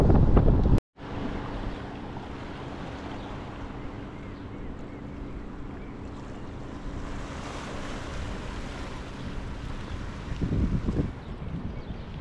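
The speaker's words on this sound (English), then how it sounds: "that's like the Atlantic swell, I would say, just coming in from the ocean" Atlantic ocean swell rolling ashore on a Scottish coast, a broad steady wash of surf with wind buffeting the microphone, brief dropout near the start and a louder surge toward the end.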